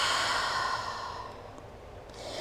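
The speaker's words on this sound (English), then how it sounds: "Just breathing in and out." Slow, audible breath during a yoga session in a pyramid forward fold, a long airy exhale fading gradually, close and quiet with no talking.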